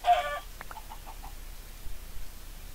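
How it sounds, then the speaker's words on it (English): Chickens clucking in the Minecraft mod PolyCraft, a short run of quick, soft clucks following a brief higher squawk, fairly quiet and alone. "Chickens, tons of chickens."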